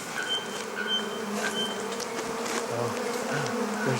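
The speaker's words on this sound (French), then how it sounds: "il y a un essaim d'abeilles" A swarm of bees buzzes continuously in a dense, droning hum outdoors in a garden, with individual insects passing close.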